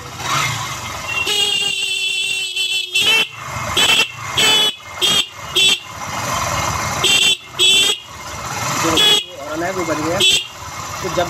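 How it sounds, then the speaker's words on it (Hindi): A Bajaj Boxer motorcycle horn gives a string of short and longer honks, loud and close, over a running engine, with someone speaking between the blasts. "देखो गाड़ी स्टार्ट कर दी और हॉर्न को बजाते हैं"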